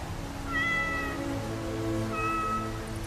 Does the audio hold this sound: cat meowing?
yes